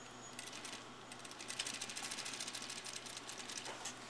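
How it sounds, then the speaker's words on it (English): A sewing machine stitches a skirt to its waistband with a fast, steady whirring patter of the needle close by, running continuously for a few seconds without speech. "you're going to sew just below the stay stitch, attaching the skirt to the waistband."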